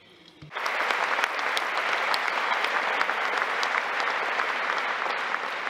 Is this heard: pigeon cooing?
no